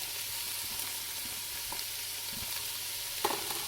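Ham and celery dropped into a pot for split pea soup, a faint continuous sizzle with a low hum underneath and a few soft stirring knocks, one clearer clatter near the end, no voices.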